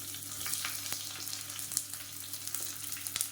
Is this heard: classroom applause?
no